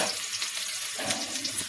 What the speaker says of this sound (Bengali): স্পিডটাকে কমিয়ে বড়াগুলো দিয়ে দেব এর মধ্যে।